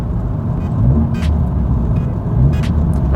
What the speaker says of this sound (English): I'm revving the engine.